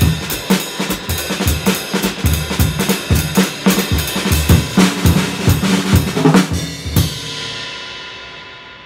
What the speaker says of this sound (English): then I'll introduce you to the world of jazz drumming